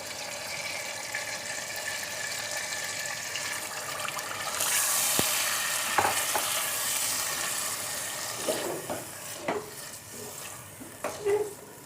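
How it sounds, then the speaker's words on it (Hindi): Marinated chicken frying in about a quarter cup of oil, a steady soft sizzle throughout with a few stirring clatters and scrapes toward the end. "तकरीबन 1/4 कप ऑयल होगा। ये मैरिनेटेड चिकन डाल दें इसके अंदर।"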